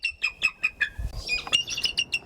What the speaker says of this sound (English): That is the call of one of the many bald eagles at Birds of Prey Northwest.